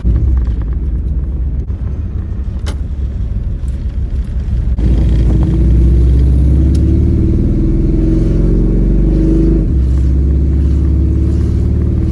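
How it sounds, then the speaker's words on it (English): A 1997 Chevy Camaro engine revs steadily under very light throttle, a close, loud, continuous rumble whose pitch rises slightly partway through and holds, with no talk. "I'm trying to press the accelerator as light as I possibly can"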